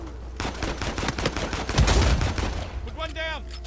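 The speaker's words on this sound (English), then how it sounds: "You're not gonna get away from me shooting you" Rapid bursts of gunfire in Uncharted 4: A Thief's End, a close, dense volley of shots peaking midway, with a brief chirping game effect near the end.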